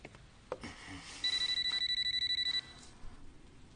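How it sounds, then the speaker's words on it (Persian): A telephone rings in a series of rapid, even electronic trills for about a second and a half, fairly loud and close, with faint room noise before and after and no talking. "باز زنگ میزند."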